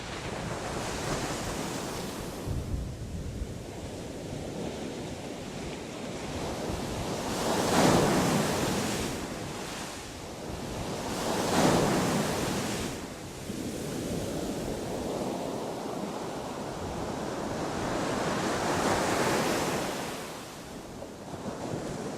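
Ocean waves roll in and break on the beach at Keta in a steady roar of surf with wind noise. Louder swells crest about every four seconds, with no voices.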